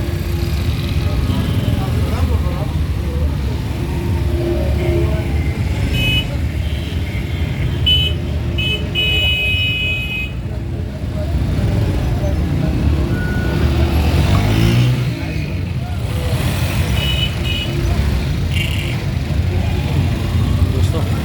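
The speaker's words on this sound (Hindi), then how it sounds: "कुछ ट्रैफिक रवा हो गई है तो मैं भी रोड क्रॉस करूँगा" Road traffic at a busy bazaar rumbles nearby, with idling and passing engines, a few horn and beeping tones, and people talking over the steady din.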